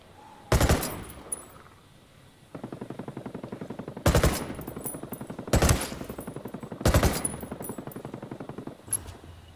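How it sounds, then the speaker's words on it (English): Video game gunfire: sharp, loud single shots hit in bursts of heavy cracks, with steady rapid automatic fire rattling between them, mostly free of talk. "Taking fire."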